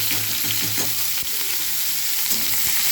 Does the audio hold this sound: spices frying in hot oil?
yes